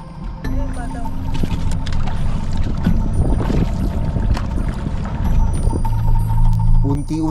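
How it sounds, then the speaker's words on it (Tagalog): Water rushes and sloshes into a sinking wooden fishing boat on Manila Bay, a loud continuous churning splash with knocking and rattling of the hull, and voices talking over it. "Unti-unting pinasok ng tubig ang kanilang bangka."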